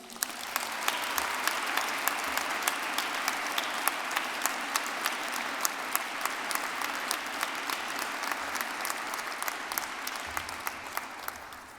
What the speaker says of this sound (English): Let's give all our graduates another round of applause.